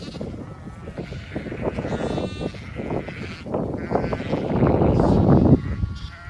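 A flock of about 250 ewes with lambs at foot in a field, bleating over and over in overlapping calls, near and far, growing louder toward the end.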